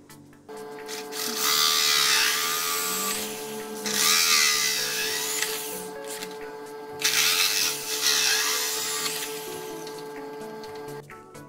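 A power drill whines in three separate bursts, grinding into a plastic gutter with short pauses between, over a constant tonal hum nearby.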